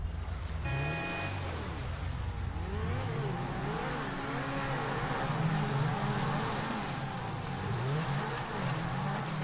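A car engine revs in the video game GTA 5 during a race, its pitch rising and falling in repeated sweeps over a steady drone and background game sounds, with no talk over it.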